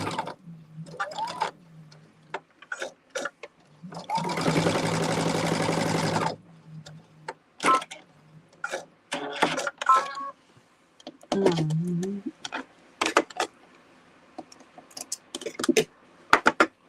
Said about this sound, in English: now let's get these things sewn together